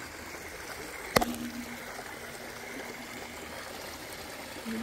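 Ledven Creek flowing at the start of a hiking trail in Sunol Regional Wilderness, a steady soft rush of water heard from nearby, broken once by a sharp click and otherwise continuous.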